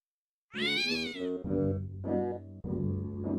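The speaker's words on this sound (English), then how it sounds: "That shitty fucking cat." A cat in a retro video game meows loudly several times in a row, a clear close yowl followed by shorter repeated mews, with no talking over it.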